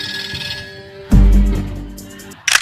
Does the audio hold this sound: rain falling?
no